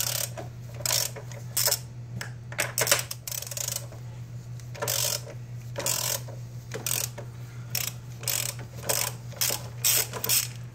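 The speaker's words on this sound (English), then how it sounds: "I've just got a deep socket." A ratchet with a deep socket loosens a bolt on a 2008 Mazda engine during gasket work, giving rapid bursts of close, sharp clicking in repeated strokes over a steady low mechanical hum.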